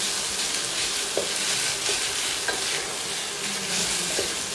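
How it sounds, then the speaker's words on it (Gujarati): Leftover rice mixed with spices in a hot pan makes a steady, loud frying sizzle with continuous stirring and scraping, and occasional light knocks of the spoon against the pan. "ભાતને પહેલાં આ રીતે સરસ રીતે મિક્સ કરી લેવાના છે"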